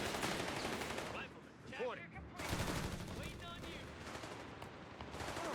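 Rifle fire in Company of Heroes 3 as US riflemen engage German Panzer Grenadiers from range: bursts of shots and crackling gunfire run throughout amid dense battle noise, with a voice speaking over it.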